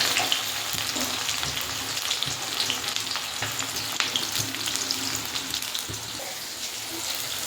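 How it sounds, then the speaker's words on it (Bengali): Onions frying in a pan with bay leaf and whole garam masala for chicken curry, a constant close sizzle with occasional soft stirring clicks. "আস্তে আস্তে সুন্দর করে পেঁয়াজগুলোকে ভেজে নেবো"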